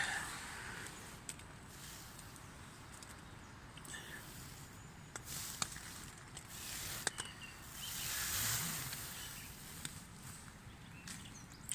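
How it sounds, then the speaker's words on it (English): Scattered bird calls and chirps across a quiet outdoor morning at a wild camp, faint and somewhat distant, with occasional sharp clicks and rustles nearby. "Hear the birds going nuts."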